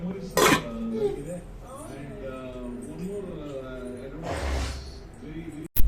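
Gifted metal pots handled at home during a Ugadi festival, knocking and clinking loudly at the start and again near the middle, while someone talks over them throughout.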